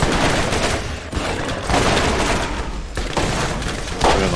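Sustained gunfire in the video game Borderlands, dense overlapping shots and bursts filling the whole stretch at steady loudness, with a slightly louder blast near the end.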